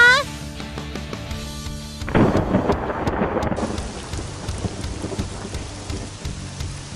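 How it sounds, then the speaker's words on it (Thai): Heavy rain pours steadily during a thunderstorm, with a loud rumbling thunderclap near the start and a dense, continuous downpour hiss after it. "อ้าวฝนตกนี่นา"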